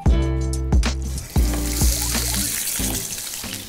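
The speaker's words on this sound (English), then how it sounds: "we're gonna sear that so we get nice caramelization on the meat" Bone-in short rib coated in shio koji sizzles as it sears in a hot pan, a bright continuous frying hiss with a few sharper clatters and knocks of the pan nearby.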